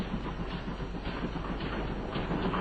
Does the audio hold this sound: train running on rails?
yes